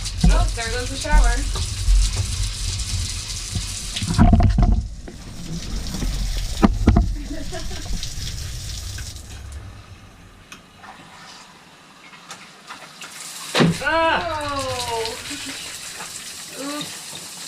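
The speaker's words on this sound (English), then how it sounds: "Oh, there goes the shower." A shower runs during a rough-in plumbing test, a steady rush of water spraying that fades low for a stretch before surging back, with short exclamations and speech over it.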